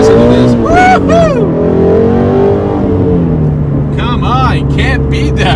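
A Ford Shelby GT350 V8 with a stick shift revs hard and accelerates, the engine note climbing loud and close while a voice whoops and talks over it.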